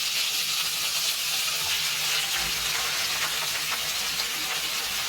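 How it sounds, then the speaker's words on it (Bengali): Tomato and onion frying slowly in oil, giving a steady, even sizzling hiss that fills the whole stretch without pause, fairly close and moderately loud, with no voices. "এটা হচ্ছে আস্তে আস্তে সময় নিয়ে ভাজা"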